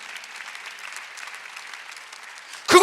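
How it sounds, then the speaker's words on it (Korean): Steady congregation applause at a church Sunday worship service, a dense even patter of many hands lasting several seconds before breaking off abruptly into a brief louder burst at the end. "박수 하나 더 해주세요."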